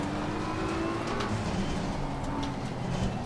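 Race car engine in Assetto Corsa Competizione droning steadily as another car runs alongside, a continuous mid-level roar with faint tonal whine and no clear pass-by peak.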